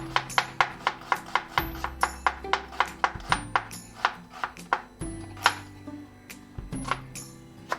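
Two medium onions being finely chopped with a knife on a board: a steady run of crisp, evenly spaced cuts, close and clear, with a low, continuous tonal backing underneath.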